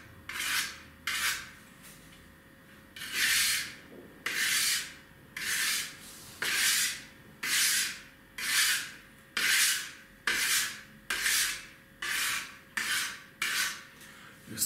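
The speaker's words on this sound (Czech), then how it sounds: "druhou stranu čepel jsem brousil tím způsobem, že jsem si to ostří rozdělil na tři části" A katana replica blade of tungsten steel is stroked along a whetstone in regular back-and-forth rasping passes, about a dozen even scrapes close up with short pauses between them.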